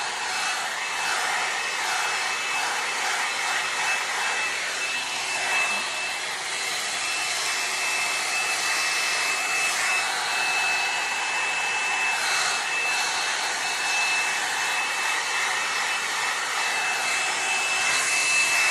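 A L'ange LeVolume hot air brush blowing hair dry gives a loud, steady airy whoosh with a constant high motor whine, close and uninterrupted, with faint shifts as the brush moves.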